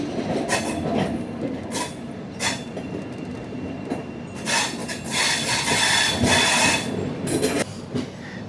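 The Trivandrum Veraval Express rolls along the track with a steady, loud rumble of wheels and carriage noise. Rhythmic clatter and bursts of squeal and hiss come through at intervals, heard from on board, with no speech.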